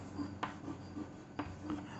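Chalk or marker writing a capital letter H on a classroom board, with a few quiet scratchy strokes and light taps, soft and close with no talk.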